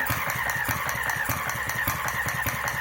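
A restored Centaur model engine idles slowly while not yet warmed up, running at about 650 RPM with a steady, even chuff of regular beats close by and nobody speaking.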